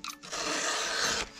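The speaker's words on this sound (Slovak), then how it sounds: "každý jeden zub je potrebné prebrúsiť trikrát" A round file scrapes along a tooth of a Stihl MS 462 chainsaw chain in one short rasping stroke, close and distinct, with a brief scratch just before it.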